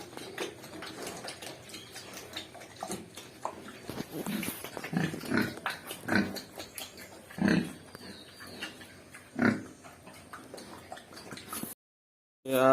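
Pigs on a farm grunt in short, irregular bursts over a steady background hum, with louder grunts near the middle, followed by a brief silence and a sudden noisy ending.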